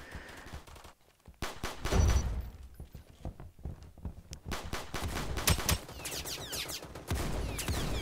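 Video game gunfire: rapid bursts of sharp shots, some in quick automatic strings, with heavier thuds and brief pauses, dense and close throughout.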